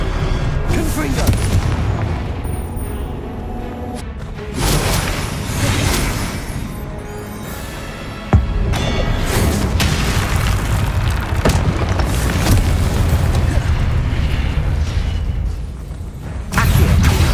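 Confringo fire spells blasting in Hogwarts Legacy gameplay, loud repeated booming explosions over dense game combat noise, with a few abrupt gaps between bursts.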